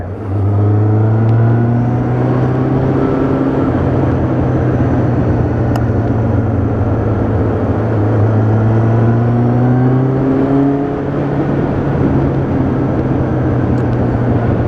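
A car accelerates hard on the road between Kłyżów Rybakówka and Zarzecze. The engine is loud and close, and its pitch climbs in two rising sweeps over a constant rumbling drone.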